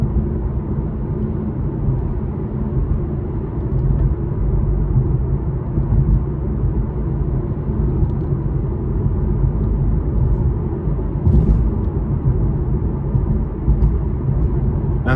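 Steady low road rumble and tire roar fill the cabin of a 2015 Infiniti Q50 Sport 3.7 V6 riding on 19-inch alloy wheels, a continuous drone at even level with a brief bump near the end and no talking.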